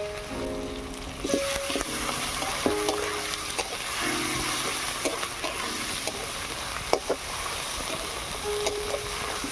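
Onion, ginger and garlic frying in a pan for hilsa biryani after salt, turmeric, chili powder and slit green chilies go in, giving a steady sizzle with occasional stirring clinks and scrapes throughout.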